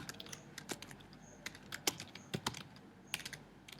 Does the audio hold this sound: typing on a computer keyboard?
yes